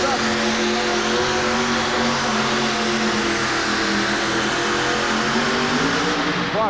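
Tractor-pulling truck called Rice Burner hauling a sled down the track at a 1989 USHRA event in Worcester: a loud, continuous roaring engine with a steady rising drone throughout, filling the whole clip.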